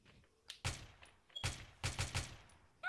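Video game gunfire crackles in several sharp bursts, a lone shot early on and then a tight cluster of rapid reports toward the end, fairly loud against a quiet background.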